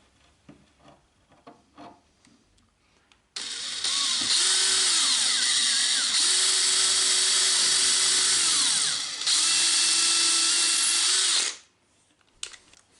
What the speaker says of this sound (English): A little bit thinner wood drill than the screws.